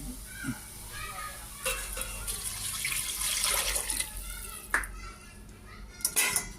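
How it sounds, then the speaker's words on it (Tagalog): Water pours and splashes into a cooking pot of pork being prepared, amid light clinks of cookware, with a voice faintly in the background. "lagyan natin ng tubig"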